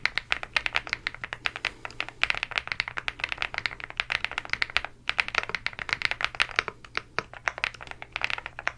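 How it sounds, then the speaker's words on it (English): Rapid typing on a computer keyboard, close and crisp, with quick irregular key clicks in bursts and brief pauses, continuing throughout without speech. "I will be typing"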